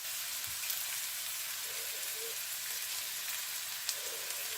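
Vegetables and garlic sautéing in a pan for proso millet vegetable pulao, a soft, continuous high hiss of frying with occasional faint stirring.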